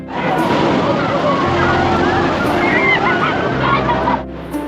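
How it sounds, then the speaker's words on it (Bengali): Sea waves at Digha beach roll in a steady, loud broadband wash heard through a window, with a faint voice and possible honk-like calls mixed in, the surge dropping off near the end. "এই জানলা থেকে কিন্তু ওপেন সমুদ্র দেখতে পারবেন মানে সমুদ্রের ঢেউ দেখতে পারবেন"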